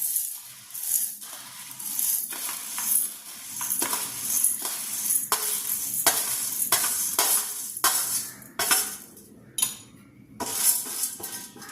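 Roasted wheat grains pour into a mixer grinder jar in repeated bursts of crisp rattling patter, close and fairly loud, separated by short pauses.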